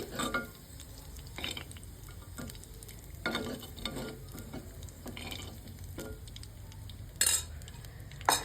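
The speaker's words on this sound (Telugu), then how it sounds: "ఈ వాటర్ అన్నీ మొత్తం మనం ఇంకిపోయేంత వరకు ఇలా కలుపుతూనే ఉండాలి" Prawns fry in a pan while a utensil stirs and scrapes them in repeated short bursts over a steady low sizzle, close up and fairly quiet.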